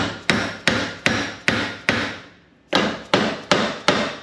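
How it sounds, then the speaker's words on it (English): A sand-filled dead blow hammer strikes a damaged trailer axle bearing in loud, evenly spaced blows, five in a row, a short pause, then four more, each with a dull thud and brief ring-out. "I'll take the other dead blow hammer."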